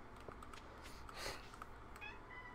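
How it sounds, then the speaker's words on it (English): A cat in Stardew Valley meows softly once or twice over quiet game ambience, faint and without any talking. "Meow. Meow. Hi, kitty cat."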